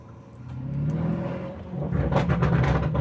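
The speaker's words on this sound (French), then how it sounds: "Même le son des turbos, tu l'entends." A Lamborghini Urus twin-turbo V8 with Akrapovic exhaust builds and revs from inside the cabin, with a faint high turbo whistle riding over the rumble.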